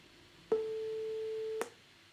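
Computer-generated electronic tone from a coding exercise: a single steady beep with a sharp start and stop, held about one second, clean and alone over faint background.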